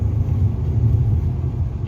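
A BMW 128ti hatchback accelerates hard, its sporty exhaust giving a deep, steady rumble that stays loud and close for a couple of seconds with no talking.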